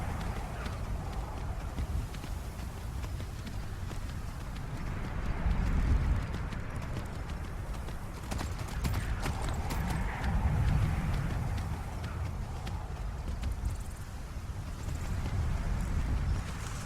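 Horse hooves clip-clop steadily on a mount being ridden in modded Skyrim, a continuous rhythmic patter under a dense, rumbling ambient bed that swells and fades, moderately loud with no talking.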